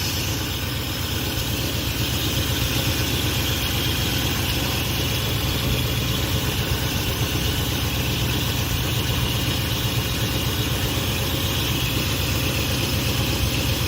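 A Dodge Ramcharger engine idles steadily in neutral with a constant low rumble and vibration, close by, with no voices.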